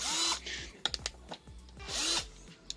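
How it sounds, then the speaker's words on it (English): A cordless drill whirs in two short bursts, each spinning up and winding down, with some clicks and handling knocks between them. "So this is a cordless, battery operated drill."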